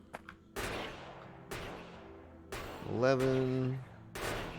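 Gun turrets fire in the modded factory-building game Factorio, several sharp separate bangs spaced about a second apart, with a short tonal game alert sounding between them and a faint voice in the background.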